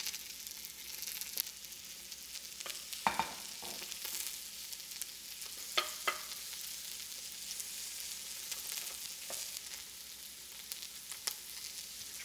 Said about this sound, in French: Là j'entends que ça grésille.